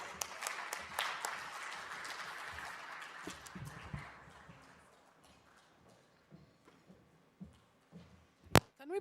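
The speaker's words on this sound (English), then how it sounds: "Can we give a bigger round of applause to the Ugandan in Carlos right there?" Dense applause from a crowd at a program launch fills the room, then dies down to scattered claps and a few knocks, ending with one sharp bang.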